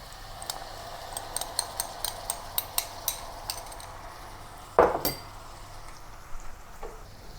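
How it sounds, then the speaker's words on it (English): A spatula scrapes rhythmically in a pan of Kam Heong chicken with curry gravy, a regular series of clacks, then one louder metallic clang and a few softer scrapes over a low sizzle. "Mix everything together"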